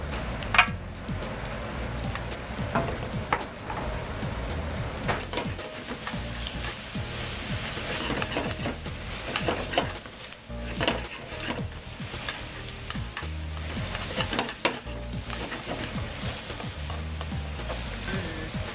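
Thin-sliced pork stir-frying in a pan with Chinese cabbage and daikon radish, a steady close sizzle broken by repeated scraping and clattering stirs that run the full length with no voices.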